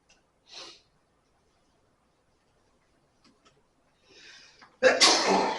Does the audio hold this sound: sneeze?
yes